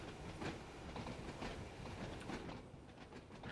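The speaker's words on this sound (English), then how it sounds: "I like the fact they've simulated the rattling and the clacking sounds of this bit" Simulated train on the Isle of Wight Island Line in Train Sim World 2, rattling and rhythmic clickety-clack of wheels over rail joints, a steady rolling rumble held at a soft level throughout.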